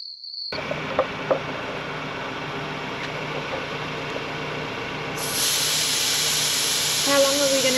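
Vehicle tyres being aired down beside a beach dune, a steady close hiss of escaping air that grows louder and brighter partway through, with voices briefly heard near the end.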